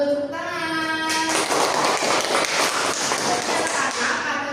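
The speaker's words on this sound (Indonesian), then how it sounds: "Bagus, tepuk tangan." A voice speaks briefly in a classroom, then a group of pupils breaks into lively, close clapping that continues in a fast, uneven patter.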